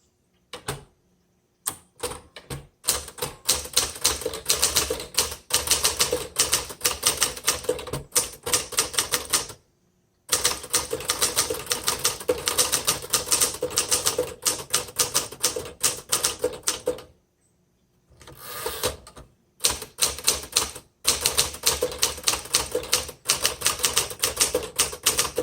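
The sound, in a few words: typing on a 1959 Remington Quiet Riter typewriter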